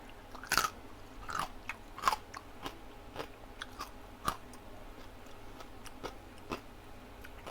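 Crunchy roast pork crackling is bitten and chewed close up, with sharp crunches followed by a run of smaller, irregular chewing cracks over a quiet background and no talk.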